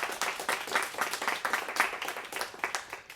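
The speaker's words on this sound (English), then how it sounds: "Let's give a big round of applause to our volunteers." A crowd at a civic volunteer kickoff event applauds the volunteers, a dense, lively patter of many hands clapping steadily for a few seconds with no speech over it.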